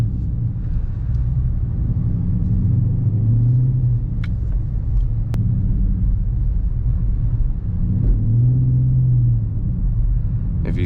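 A Dodge Charger R/T engine drones steadily as the car drifts through snow, a loud continuous low rumble with rising surges of revs and a couple of brief clicks inside the cabin.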